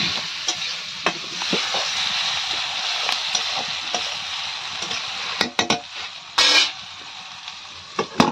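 Onions frying in a pan, a steady bright sizzle with repeated scraping strokes of a stirring spoon and occasional sharp clinks against the pan, no talk.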